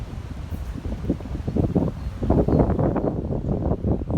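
Strong gusting wind buffets the microphone beside a small river during float fishing, a rough roar that builds and surges in waves, louder in the second half, with no talking.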